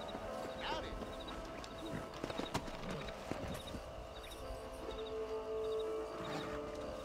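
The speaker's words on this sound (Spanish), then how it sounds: "Hora de montar a caballo." Horse hooves clip-clop at an unhurried pace during riding on a ranch in the video game Red Dead Redemption, a soft rhythmic clatter heard under talking voices and game ambience, with a faint whinny-like sound.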